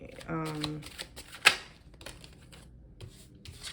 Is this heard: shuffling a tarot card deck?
yes